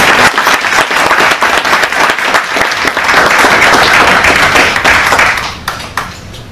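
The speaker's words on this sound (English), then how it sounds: "a round of applause for him" Audience applause at a book launch, loud, dense clapping with individual claps standing out, steady for about five seconds before thinning out and fading.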